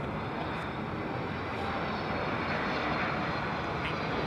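An airliner roars steadily on its landing approach at Heathrow Airport, a loud, broad and unbroken engine rumble that holds throughout and swells slightly towards the end, with no voices heard.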